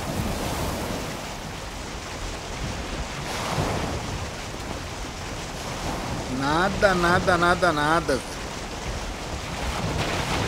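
Big ocean waves rolling and washing around a boat being sailed at night in the Valheim video game, a continuous surging wash with wind, while someone speaks briefly and a strained melodic call sounds midway.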